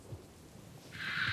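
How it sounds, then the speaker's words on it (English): Heavy rain drums on a carriage roof as a soft, steady hiss that swells noticeably louder partway through, with a faint low rumble underneath. "You can just hear the sound of heavy rain"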